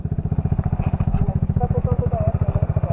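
A Yamaha XTZ 125 trail motorcycle runs on a dirt trail, its single-cylinder engine thumping in a steady rapid pulse close by, with a voice speaking briefly over it.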